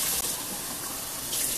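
Warm water runs steadily from a kitchen tap for bread-making, a continuous close hiss and splash with no talk.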